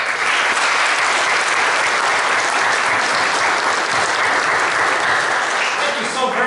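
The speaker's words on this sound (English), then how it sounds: "them our support with a round of applause" A congregation at a Catholic Mass for the Feast of Christ the King applauds children preparing for the sacrament of penance. Loud, sustained clapping fills the church evenly and continues without a break.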